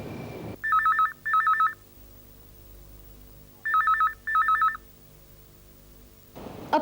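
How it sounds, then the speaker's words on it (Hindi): A telephone rings in a Hindi TV drama scene: two pairs of electronic double rings, clear and close, separated by a quiet pause, with no talk over them. "रिंग जा रही। फ़ोन नहीं उठा रहे हैं"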